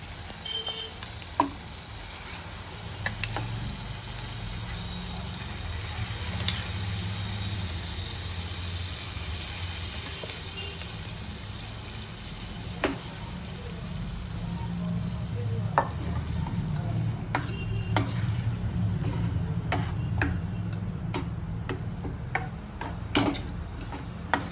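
Ragda, a pea curry, sizzles and fries steadily in a pan with soft scraping and occasional light ticks of a spoon stirring it, a continuous close crackle with no talking.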